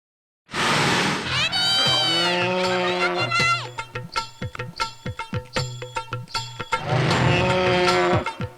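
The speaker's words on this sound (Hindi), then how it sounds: "ये भैंस क्यों लाया तू?" Buffalo lowing in a rural Indian setting, a couple of long, loud bellowing calls up close, with other animal sounds and background music in between.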